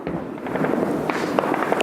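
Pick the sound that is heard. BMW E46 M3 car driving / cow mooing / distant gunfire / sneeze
distant gunfire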